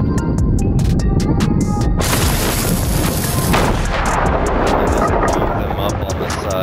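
Gunshots in the pirate game Sea of Thieves during a ship-deck engagement: a rapid run of sharp cracks at the start, then dense booming battle noise and clatter, loud and continuous throughout.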